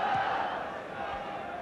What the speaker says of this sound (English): the crowd again are on their feet, applauding